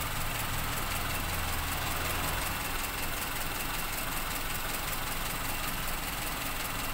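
A cold Toyota Kijang carburetor engine idles with a steady, even low rumble and mechanical hum, continuous and close, with no talking.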